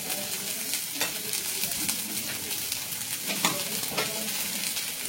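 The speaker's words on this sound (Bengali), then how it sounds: "তো মশলাগুলো দিয়ে নেওয়ার পর ভালো করে আমি নাড়িয়ে নেবো।" Spices such as coriander and cumin powder are stirred into sambar in a hot pan, with a continuous oily sizzle and repeated scraping strokes of a spoon, close by.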